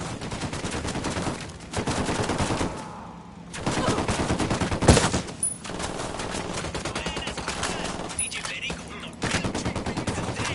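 Dense machine-gun fire and volleys of gunshots from a PS4 video game, loud and sustained with brief pauses, mixed with a voice.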